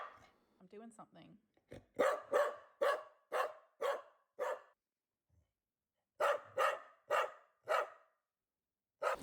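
A dog barking indoors in two bursts of steady repeated barks, about six, then a pause and five more, with a brief voice at the start.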